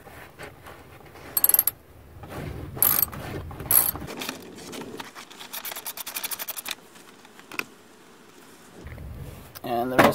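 A ratchet works a 10mm bolt on a hybrid battery cover, giving bursts of quick metallic clicking, first in short spurts and then in a longer steady run, close and fairly loud.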